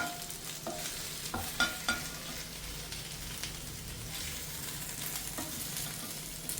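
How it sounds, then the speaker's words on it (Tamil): Brinjal pieces fry in a pan of oil, a soft continuous sizzle broken by a few scraping stirs and light clinks, close and fairly quiet. "கத்திரிக்காய் ஃப்ரை ஆகி வெந்திருக்கு"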